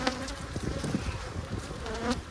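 Honeybees buzz from an opened hive that had been left abandoned, a close, continuous droning hum with individual bees swelling louder as they fly near.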